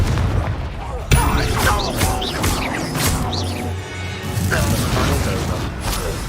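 Confringo and Bombarda blast spells exploding in the video game Hogwarts Legacy, several sharp bursts and crashes over a dense layered game soundtrack, with a voice shouting over the action.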